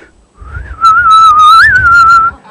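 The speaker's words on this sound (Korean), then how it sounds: "휘파람 부는 거." A single person whistles a sustained, wavering tune at close range, the melody sliding up and down with no talking.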